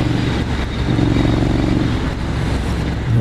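Triumph Street Scrambler 900 motorcycle, 2019 model with a high-mounted exhaust, running steadily while ridden, its deep engine drone loud and close with a low rumbling pulse throughout.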